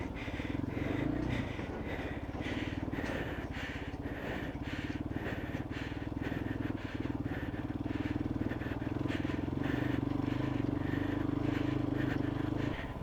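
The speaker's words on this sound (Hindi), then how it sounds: "बाइक ज़्यादा तेज़ भाग रही है" A motorcycle engine drones steadily as the bike rides fast down a snowy mountain road in Harsil Valley, with a constant loud hum and rhythmic pulsing throughout.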